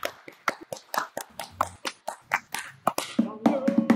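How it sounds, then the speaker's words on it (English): Rhythmic stomping feet and clapping hands from a group singing along to a children's song, steady beats about twice per second, with singing voices coming in toward the end. "So stomp your feet and clap your hands."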